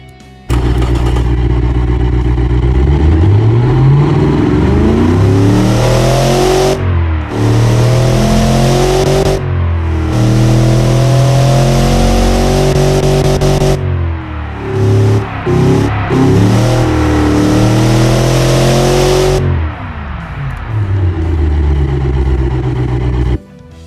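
A simulated 255 Windsor V8 with a high-power camshaft, in the car-building game Automation, revs loudly and repeatedly, climbing through the RPM range in several long sweeps with short drops between them, and no one speaks over it.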